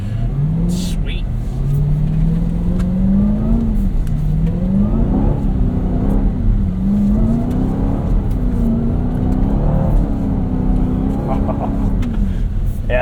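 A 2026 Dodge Durango SRT Hellcat Jailbreak AWD with 710 hp runs at full throttle on snow at a rally school, its loud engine roaring steadily and rising and falling in pitch as the revs climb and dip.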